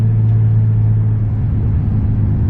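An R33 Skyline's tuned turbo engine held under boost, a loud, close, low droning rumble that sustains steadily for a couple of seconds with no talking.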